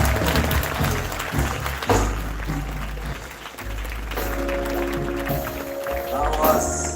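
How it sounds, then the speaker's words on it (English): Graduation audience applause swells in a large hall, sustained clapping mixed with crowd noise and voices, with a tonal musical or vocal layer running underneath. "a big applause right now"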